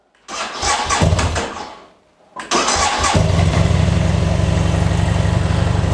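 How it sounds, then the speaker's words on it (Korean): A 2014 BMW F700GS motorcycle with its stock muffler cranks and fires up, briefly falls quiet, then starts again and settles into a steady, quiet, low rumbling idle close by. "이제 시동을 한번 걸어보겠습니다"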